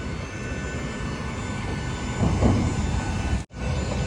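Steady loud jet engine drone beside a parked airliner at Birmingham airport, a constant close roar with a brief dip near the end.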